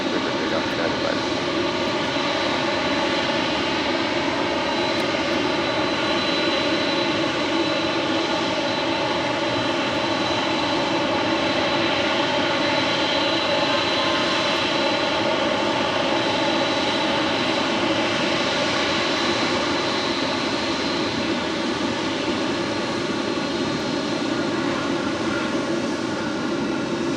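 A jet airliner taking off from LAX runway 25 right, a continuous loud engine roar with a steady whine layered on top, holding strong and even for the whole stretch.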